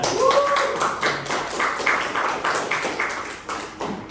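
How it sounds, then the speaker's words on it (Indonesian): A classroom of students claps hands together, a series of distinct, fairly loud, uneven claps with a rhythmic pulse lasting several seconds, close by, with a little background voice. "Tepuk tangan saja."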